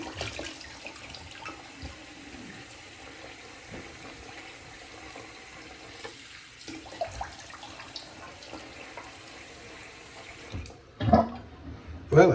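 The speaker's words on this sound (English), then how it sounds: "let's throw on some Texas cold water." Cold water runs steadily from a tap, a continuous soft splashing that lasts throughout, with a few louder splashes near the end.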